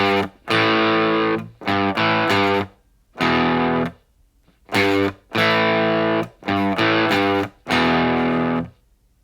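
Heavily distorted electric guitar chugs intro chords in short punchy bursts separated by clean silences, loud and close with a crunchy overdriven tone.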